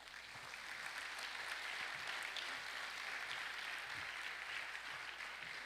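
Independence Day ceremony crowd in an outdoor capital courtyard gives a round of applause, soft and distant clapping spreading evenly across several seconds.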